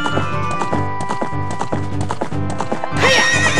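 Horse hooves clip-clopping in a fast galloping rhythm in Zelda: Ocarina of Time, close and loud, ending in a shrill neigh, with no talking over it.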